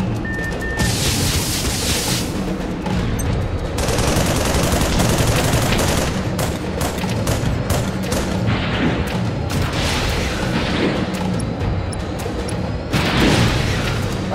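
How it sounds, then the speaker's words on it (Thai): Missile launches and explosions in the video game Project Nimbus, a loud, nearly unbroken barrage of rapid gunfire and booming blasts with repeated sharp bursts throughout. "เฮ้ยมิซายยิงจากไหนวะ"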